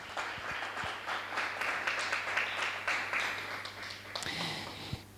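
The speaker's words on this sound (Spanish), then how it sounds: "Un aplauso al Señor." A church congregation gives a round of applause during a service, quick clapping rising over a low steady hum and tapering off, with a few voices and knocks near the end.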